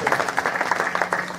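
Brief applause from a crowd at a comedy kirtan held at a hunger-strike site in Antarwali Sarati, a short burst of claps blended with murmuring voices.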